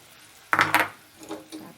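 Fermented fish (buro) drops into a pan with a sharp metallic clatter, followed by softer scraping and stirring knocks against the pan, close and clear with no talking.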